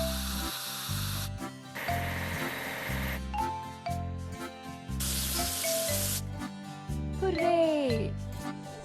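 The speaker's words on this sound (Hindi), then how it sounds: "चलिए स्प्रेयर ट्रक को धोएं।" Cartoonish spray bursts and rubbing effects as a sprayer truck is washed in a farming video game, several loud hissing spray blasts alternating with squeaky scrubbing, set over looping game music.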